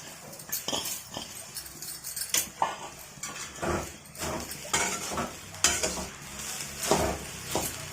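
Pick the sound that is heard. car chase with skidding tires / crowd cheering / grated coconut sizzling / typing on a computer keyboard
grated coconut sizzling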